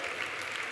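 A crowd claps at a university graduation ceremony, a brief dense burst of many hands, loud and continuous across the whole moment.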